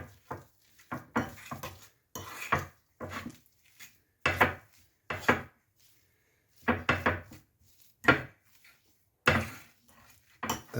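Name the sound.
stirring a pie filling in a pan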